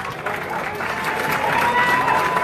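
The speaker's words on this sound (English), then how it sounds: "Let's hear it for them" Audience at the Miss Universe 2017 preliminary competition at Planet Hollywood Resort Casino applauds the resort staff, a dense, sustained wash of clapping and crowd noise that swells slightly toward the end.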